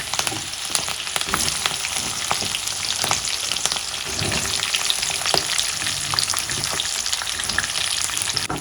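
Green chillies and onions frying in hot oil for chilli chicken, a loud steady sizzle with crackling spits and the scrape of stirring throughout.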